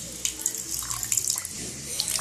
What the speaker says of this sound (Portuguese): Você vem aqui, coloca um pouquinho de água nessa...